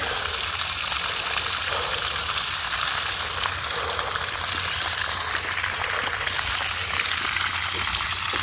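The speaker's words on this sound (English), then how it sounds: "That's quite a bit of water." Water gushes steadily from a rainwater line outlet in a continuous rushing spray, close and constant without pause.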